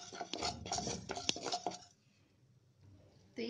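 Two tablespoons of fenugreek seeds dry-roasting in a pan on a gas stove: close, busy rattling and scraping as the seeds are stirred for about two seconds, a quiet pause, then a fresh burst of stirring at the end.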